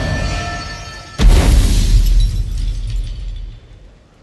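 A sudden thunderclap breaks over the storm in Witcher 3, a sharp crack that falls into a deep, rolling rumble and slowly fades over several seconds.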